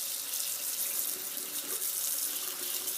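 A paint brush is rinsed under running water from a tap during face painting, producing a close, steady hiss of flowing water with no talking.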